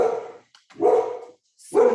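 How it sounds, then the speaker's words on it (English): Dogs bark at a delivery person at the door indoors: three loud, close bursts of barking separated by short gaps, the last one sharp and yelping. "So they're barking at like UPS or something"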